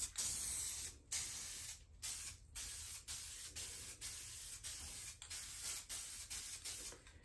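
An aerosol can sprays SEM Landau black paint onto plastic in about a dozen short, close hissing bursts with brief pauses between them.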